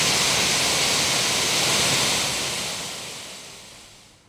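Courtallam main waterfall runs with heavy water, a dense, steady roar of falling water that fills the clip loudly, then slowly fades toward the end.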